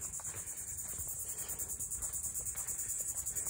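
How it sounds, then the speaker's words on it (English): Insects, crickets by their sound, chirp steadily in an outdoor thicket, a dense continuous pulsing trill that is moderately loud and heard alone with no voices. "A lot of these bugs though, man. I mean, you can just hear them out there."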